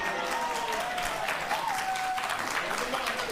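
Steady applause from a studio audience at a daytime talk show, a dense, continuous wash of clapping filling the room at even loudness throughout.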